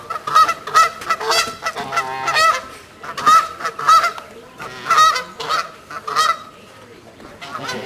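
Agitated geese honk loudly and repeatedly at close range, harsh bursts coming in uneven clusters with short pauses between them, as the birds are disturbed at their nest beside a lake.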